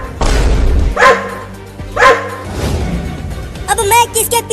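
A dog gives several loud, deep barks spaced about a second apart, close by, with a voice speaking over and between them.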